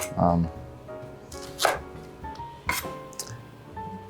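A knife cuts through Brussels sprouts in a few sharp, close chops spaced about a second apart, each with a brief crisp crunch and clack.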